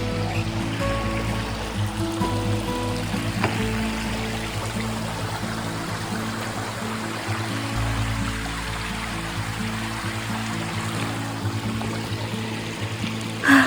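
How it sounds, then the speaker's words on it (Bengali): Water rushes steadily along a rugged mountain hiking trail, a continuous, even flow filling the whole stretch without pause. "এই জলের আওয়াজ।"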